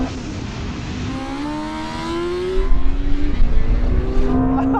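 A Ferrari SF90 and a BMW M1000RR launch in a drag race, loud engine tones climbing in pitch through quick gear changes, with a rough roaring burst midway, close and with no voices.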